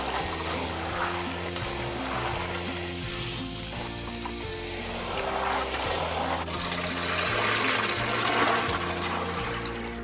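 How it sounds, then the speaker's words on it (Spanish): Nixtamal corn for red pozole is rinsed in water, a soft, continuous sloshing and trickling kept up throughout, with gentle background music underneath. "vamos a lavar bien el nixtamal muy bien"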